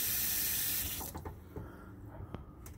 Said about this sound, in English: I've just got it draining into a bucket.